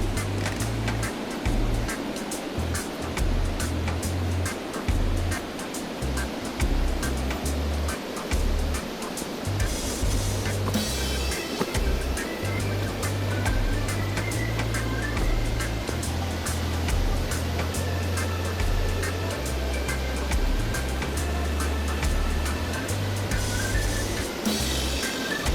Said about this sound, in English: we're going to go take a look at the waterfall